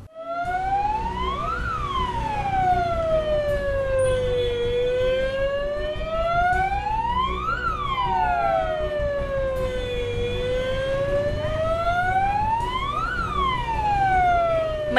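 Ambulance siren in Hong Ngu district, Dong Thap province, Vietnam: a loud, continuous wailing tone that slowly rises and falls in long sweeps about every six seconds, with no speech over it.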